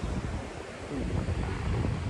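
Sea waves wash in at Shrivardhan beach on the Konkan coast in the morning, a steady broadband surf roar mixed with gusty wind buffeting the microphone, continuous and fairly close with no talk.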